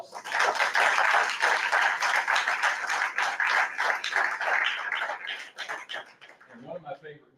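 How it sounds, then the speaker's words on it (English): A room full of people at a school board meeting gives a sustained round of applause, steady dense clapping that tapers off toward the end. "I think he's deserving of a round of applause."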